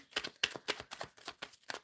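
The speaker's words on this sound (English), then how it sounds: "I am shuffling for Rada right now." Tarot cards shuffled by hand in a rapid series of crisp riffling bursts, about a dozen short flicks in steady rhythm, close and moderately quiet with no talking.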